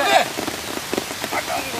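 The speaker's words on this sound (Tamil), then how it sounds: "மழை வரட்டும்." Rain falls steadily on an outdoor village cooking site, giving a close, dense patter with a few sharper drops.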